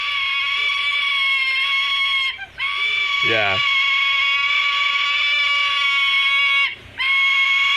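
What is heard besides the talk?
sulphur-crested cockatoo chick screaming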